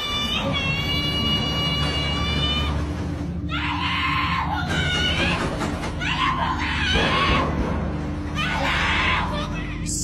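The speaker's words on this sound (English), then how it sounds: "Someone can be heard screaming for help," A person screams for help at a door at night, with repeated loud, desperate shrieks in several bursts, each a few seconds long. A voice speaks in between.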